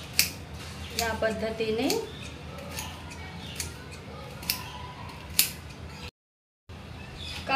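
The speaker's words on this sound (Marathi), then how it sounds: "आपल्याला आधी गोल गोल आकारात कापून घ्यायची आहेत।" Bitter gourd being sliced into rounds with a knife, giving a series of close, sharp crisp cuts spaced irregularly over several seconds, with a brief spoken phrase near the end.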